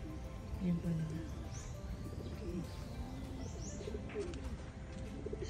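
Pigeons cooing at a pet memorial park in Silang, Cavite, low soft coos and a few chirps under nearby talking and outdoor background noise.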